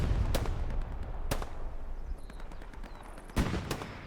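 Gunfire from the World War II shooter Hell Let Loose on the Kursk map, several sharp shots spaced irregularly over a steady battlefield rumble, some close and loud, others more distant.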